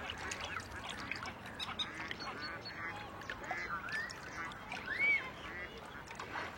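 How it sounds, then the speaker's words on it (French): Mallards, great crested grebes, moorhens, coots and little grebes on a pond give a busy chorus of quacks, honks and chatter in the middle distance, continuous over steady outdoor ambience. "Canards colverts, grèbes huppés, poules d'eau, foulques macroules ou grèbes castagneux se croisent sur l'étang."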